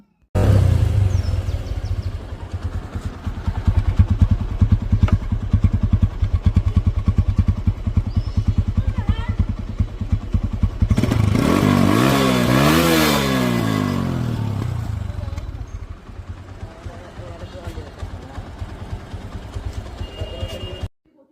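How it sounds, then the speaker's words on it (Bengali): A 160cc Apache RTR 160 motorcycle engine runs close by with a steady throbbing idle, then revs up and falls back once midway before settling to idle again. "আর এ পাশ থেকে দেখুন গাড়ির সাউন্ড দেখাবো আপনাদেরকে।"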